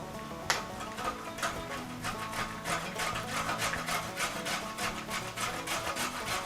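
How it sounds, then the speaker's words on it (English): A peeled carrot is finely shredded on a grater surface for El Salvadorian style coleslaw, making a steady rhythmic rasping scrape that repeats quickly and evenly, close-up and continuous with no talk. "now that we have it peeled, we're going to go ahead and start getting it shredded"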